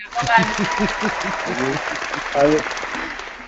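Canned applause plays from a host's sound-effect board during an online gender diversity chat, a steady wash of clapping with people talking over it.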